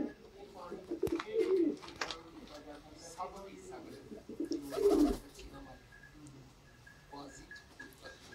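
Fancy Sialkoti pigeons coo in low, throaty bursts, loudest twice in the middle of the stretch, with more distant cooing and bird noise throughout and people talking nearby.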